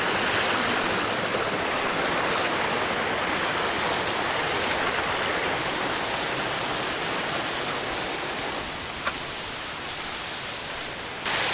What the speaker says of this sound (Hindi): यहाँ पर मेरे सामने है वाटरफॉल, बहुत अच्छा दिख रहा है